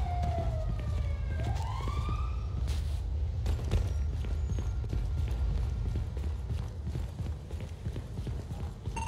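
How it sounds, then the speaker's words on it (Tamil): Police siren in the video game GTA 5, a rising wail over the first few seconds, followed by a low steady engine rumble and scattered clicking and thumping game sounds. "சரி சைரன் கேட்குது மாட்டிக்கிட்டியா"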